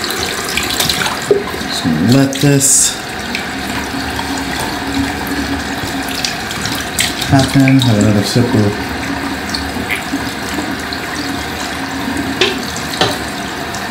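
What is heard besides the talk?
bathroom water tap running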